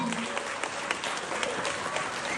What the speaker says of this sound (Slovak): Zatleskajte našim nováčom.